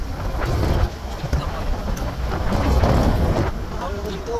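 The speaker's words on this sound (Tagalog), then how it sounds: "Ang lakas ng hangin." Strong wind roars and buffets the microphone in continuous rumbling gusts, loud and close, with voices faintly mixed in.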